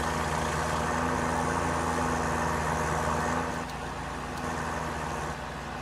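A John Deere tractor engine in Farming Simulator 2013 runs at a steady, loud diesel drone with a low humming tone, dropping slightly in level partway through and continuing with no voices.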